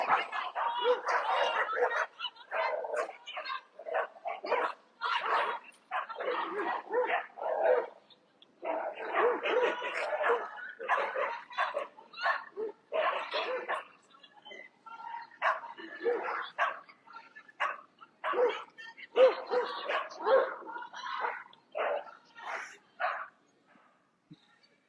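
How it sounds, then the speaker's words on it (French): Dog barking and yipping in rapid bursts during rough play outdoors, loud and close, with whimpers mixed in over nearly half a minute. "I'm glad to see my dog playing."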